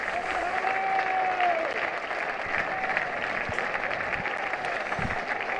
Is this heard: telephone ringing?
no